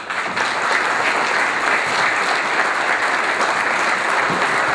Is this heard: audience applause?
yes